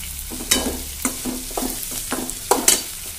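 Spices, including turmeric powder, are stirred as they fry in a pan for mango rice. A spoon scrapes in quick, uneven strokes over a soft sizzle, close and alone.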